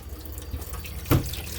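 Water running from a tap in an RV after a Fogatti water heater installation, a soft steady hiss of flowing water with a brief louder splash about two-thirds through, close and without speech.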